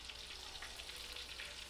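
Tilapia pieces fry in hot oil, giving a steady, even crackling sizzle with fine popping, quiet and continuous with no voices.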